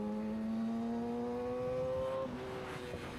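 A Yamaha R6 600cc motorcycle accelerates hard, its engine whine rising in pitch through a gear, then dropping briefly at a shift before climbing again, close and steady with wind rush underneath.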